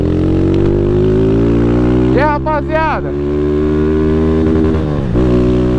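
A Honda Fan 160 motorcycle engine, 2025 model, idles unevenly with a steady harmonic drone, loud and close, with a brief greeting spoken over it and a few small revs near the middle and end.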